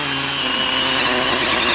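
A small DeWalt pull saw cuts through a large piece of wood at a snowy overland campsite, giving a loud, steady motorized whine that holds without a break.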